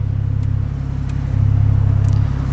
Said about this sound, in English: you guys can probably hear a difference in the exhaust